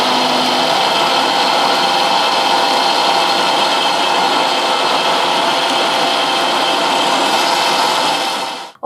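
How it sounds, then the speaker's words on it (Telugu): A kitchen mixer grinder runs continuously at high speed, blending pineapple with water into a healthy drink, loud and steady whirring throughout before cutting off at the very end; no one speaks. "Okay, so mixie పట్టేద్దాం."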